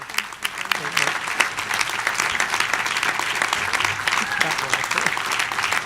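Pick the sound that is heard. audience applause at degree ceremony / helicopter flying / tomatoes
audience applause at degree ceremony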